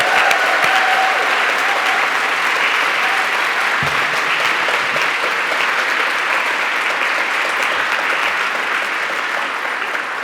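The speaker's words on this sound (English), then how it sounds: "Let's give one more round of applause for tonight's winner." Sustained applause from a ceremony audience for the winner of the Carol Shields Prize for Fiction, a dense, steady wash of many hands clapping that holds loud throughout, with no voices over it.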